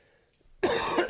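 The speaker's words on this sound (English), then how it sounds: "Sorry, I'm coughing into the mic." One loud, abrupt cough straight into a microphone, very close and alone after near silence.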